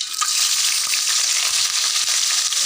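Chopped onion fries in hot cooking oil in a pan, giving a loud, steady, close sizzle with crackling pops throughout and occasional stirring scrapes.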